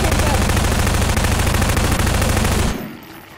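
Dense, continuous gunfire from many weapons firing at once in the Garry's Mod sandbox game, a loud unbroken rattle that cuts off abruptly near the end, leaving a faint background.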